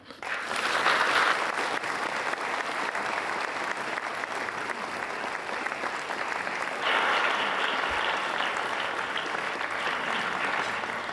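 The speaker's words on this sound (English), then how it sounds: "Please join me in welcoming with a round of applause to Ricardo Hausmann." A lecture audience applauds to welcome economist Ricardo Hausmann before his talk on green energy technologies and public policy, a steady, dense clapping from a large crowd that swells slightly near the end, with no voices over it.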